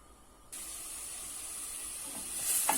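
Chopped onions begin sizzling in a couple of spoonfuls of oil in a pot for barbunya beans. A steady, hissing fry starts abruptly and swells slightly louder near the end, with no talk.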